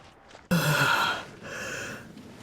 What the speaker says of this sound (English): Yawning without covering your mouth.